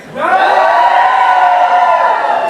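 A Texas regional audience cheers and whoops loudly, a dense crowd roar rising after a brief lull and holding steady and close throughout.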